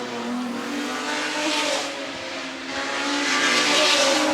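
Historic racing cars accelerate in a Sussex Trophy race at the Goodwood Revival, a loud continuous engine roar that swells as the cars pass the commentary box, with a faint tire squeal.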